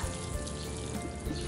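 Water poured from a kettle onto a pot holding a grape vine seedling in a burnt rice husk and soil mix, making a steady, close splashing trickle throughout.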